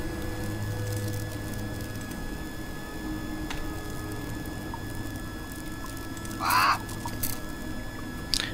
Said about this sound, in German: Wie kann ich den Vogel verscheuchen?